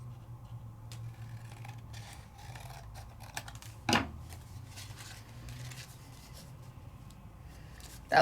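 Scissors trimming craft paper layers for a Sizzix die-cut card, a series of quiet close snips and paper scratches with one louder cut near the middle.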